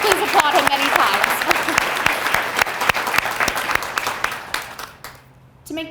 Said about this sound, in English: Please applaud him many times.